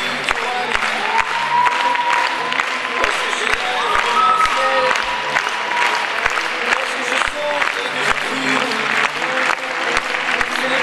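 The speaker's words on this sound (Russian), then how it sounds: "Я думаю, что это ваши аплодисменты." Crowd at a Ukrainian dance championship applauds the champion couple after their last dance, loud sustained clapping with a rhythmic beat running through it, cheers, and a voice speaking over the top.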